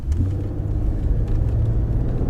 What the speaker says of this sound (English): let's do an acceleration run here